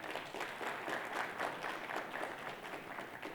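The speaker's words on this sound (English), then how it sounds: "we should clap for him" Conference audience clapping at a cybersecurity business event, a short burst of moderately dense applause from the room, soft and somewhat distant.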